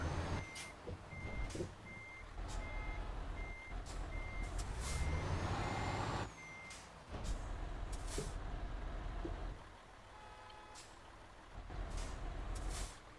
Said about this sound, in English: beeping is helping